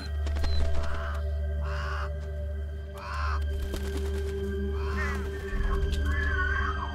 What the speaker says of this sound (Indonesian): membiarkan burung-burung gagak memakan bangkai anjing penjaganya